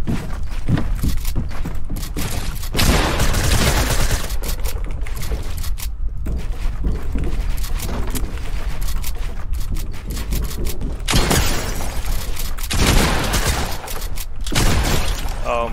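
Rapid gunfire in a console shooter video game during a 1v1 match, with dense repeated bursts of shots and clattering effects continuing almost without pause.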